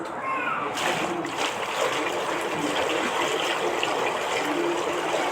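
Water pours steadily into a container over raw mangoes set to soak, a continuous splashing gush that stays loud and even throughout.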